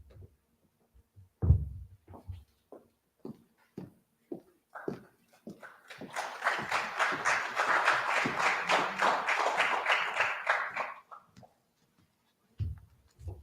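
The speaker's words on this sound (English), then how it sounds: "You got an applause." Applause from an audience at a high school college planning night, a burst of many hands clapping that swells for about five seconds and then stops, after scattered taps and knocks.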